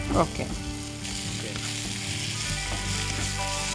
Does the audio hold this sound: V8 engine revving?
no